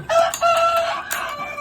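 White Bresse chickens on a farm, a rooster crowing loudly and close with clucking around it, the calls rising and falling in short bursts.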